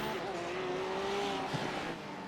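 A GT3 race car in the iRacing sim spins and then gets going again at Road Atlanta, with a brief tire squeal and a wavering engine note, fairly close and fading slightly at the end.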